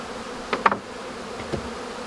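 About 2.5 kg of honeybees from a package box buzz in a low, steady hum, with a few brief, sharper sounds standing out over the drone.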